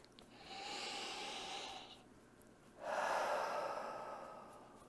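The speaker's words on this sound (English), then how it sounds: "Big deep breath." A slow, deep breath taken during a calming tapping exercise: a long soft inhalation, a brief pause, then a fuller airy exhalation, close and quiet with no talking.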